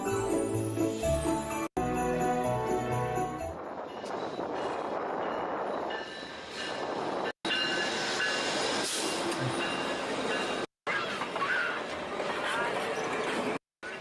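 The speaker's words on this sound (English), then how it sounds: "That's just a via train there." A VIA Rail passenger train passes by during an outdoor holiday train event, with a steady loud rumble and rush of rail noise running through the whole stretch, briefly cut by edits, and voices talking over it.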